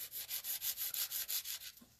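A 100 grit nail file rubs back and forth across a fingernail while it is shaped, giving about ten quick, even, close strokes in a steady rhythm with nothing else heard.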